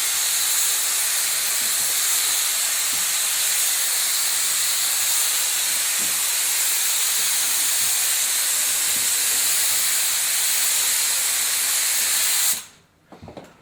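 A spray gun applying release coating onto a mould, cross-hatching in a workshop: a loud, continuous airy hiss held steady for about twelve seconds, then cut off sharply, leaving brief faint handling noise.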